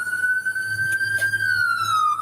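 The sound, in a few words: emergency vehicle siren, ambulance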